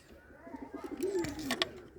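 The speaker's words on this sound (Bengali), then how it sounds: "অনেক সুন্দর সুন্দর কবুতর আছে" A pigeon coos softly, a low throaty warble rising and falling once, followed by a few brief rustles nearby.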